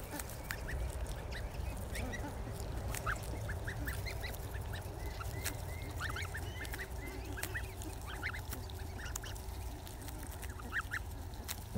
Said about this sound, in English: They're really munching down here on the grass.